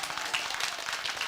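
Enthusiastic applause from an audience at a live youth organisation's golden jubilee event, a dense, fairly close patter of clapping hands that continues steadily throughout without speech.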